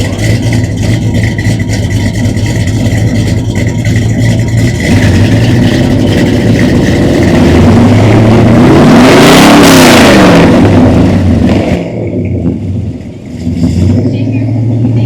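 A 1956 Chevrolet Bel Air engine with a tuned aftermarket exhaust runs loud and close, building to a strong rev near the middle before settling back to a rumbling idle.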